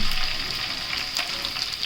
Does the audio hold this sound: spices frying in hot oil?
yes